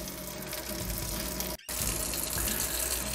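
Warm tap water running steadily from a faucet into a sink, rinsing dishwasher parts such as the spray arm; a continuous close splashing gush with a brief interruption midway.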